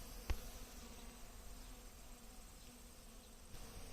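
A steady, faint honeybee buzz hums throughout at new beehives, with a single soft knock near the start and no voices.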